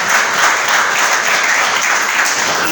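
A church congregation claps and applauds together in a dense, steady wash of sustained clapping that stays loud and even throughout, with no talk over it.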